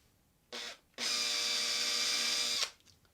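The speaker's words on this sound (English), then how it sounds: "I'll drive a drill bit into the side to give it a little bit of bite around the" A power drill drives its bit into the side of a loose screw's hole to roughen it. A brief close burst is followed by a pause, then a longer steady high whine that stops abruptly, with no voices.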